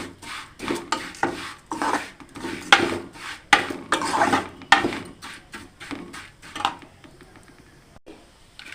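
Vermicelli and upma semolina stirred and roasted in a pan: a steady series of dry scraping, rasping strokes of a spoon against the pan, close and fairly quiet, easing off toward the end.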